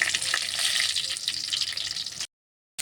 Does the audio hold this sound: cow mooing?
no